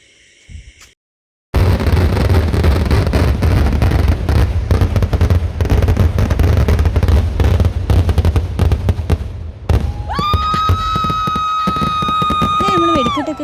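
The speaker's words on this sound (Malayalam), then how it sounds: "നമ്മുടെ വെടിക്കെട്ട് അങ്ങനെ സ്റ്റാർട്ട് ചെയ്തു കേട്ടോ" Loud fireworks at a church feast in Chalakudy, Kerala, crackle and burst in a dense, continuous barrage for several seconds, then give way to sustained whistling tones near the end.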